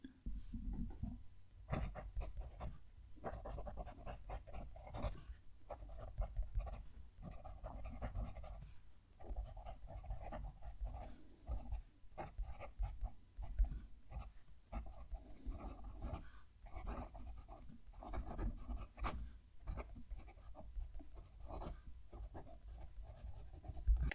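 A Platinum Preppy fountain pen scratches softly across paper, giving quiet, intermittent strokes in an uneven rhythm, faint and close, with no one speaking.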